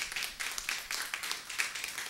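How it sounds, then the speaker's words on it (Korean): A church congregation at a Sunday service clapping in thanks, a fairly quiet, even run of rhythmic claps from a group, steady and somewhat distant. "우리 아영자매한테 우리 감사의 박수"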